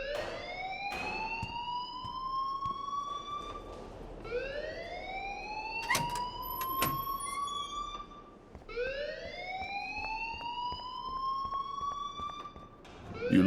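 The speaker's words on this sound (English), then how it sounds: "please turn off that alarm since that's your job" A fire alarm sounds in the video game Life is Strange, a loud wailing tone repeating in rising sweeps about every four seconds, with faint background sounds between cycles.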